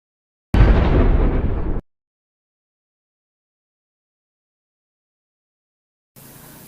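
A wheel blown up by Gru in the animated film Despicable Me 3 explodes in a single loud, broadband blast lasting just over a second. A long silence follows, then a quieter rumble begins near the end.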